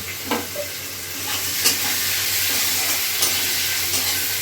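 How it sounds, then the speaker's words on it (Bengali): Onions frying in a pan with spices and garam masala, giving a steady loud sizzle with a few light stirring scrapes, close up and without speech. "পেঁয়াজটাকে ভাজতে হবে"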